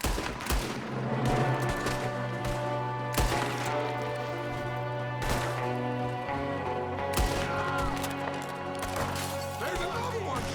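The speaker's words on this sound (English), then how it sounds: "There's another one shooting from the window" Gunfire in a Red Dead Redemption 2 shootout, shots coming from a window, with sharp broadband cracks at irregular intervals over a steady musical drone and background game ambience.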